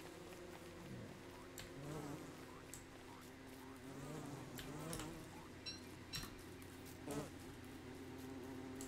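Bees from red beehives in Don't Starve Together buzz faintly and continuously, with soft ticking clicks and low game ambience underneath.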